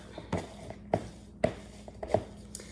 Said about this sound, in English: we got 2 cans of chickpeas in here and we are mashing them up